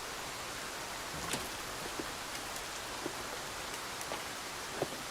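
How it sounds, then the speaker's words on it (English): Steady rain hiss in the video game Escape From Tarkov, an even wash of downpour with faint scattered drop ticks and no talking. "I gotta get out of this rain because I can't hear shit."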